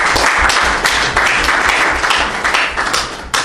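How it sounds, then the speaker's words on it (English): Dense applause from an audience at a football association's launch of a women's super cup and an under-17 champions league, steady and loud throughout with no voices over it. "Can we clap for that, please?"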